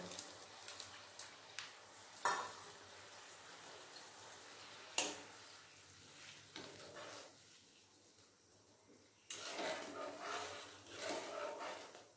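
Water at a rolling boil in a pot for a mustard rohu fish curry, a dense crackling bubble that comes in louder and quieter stretches with a few sharp clinks, with no talking.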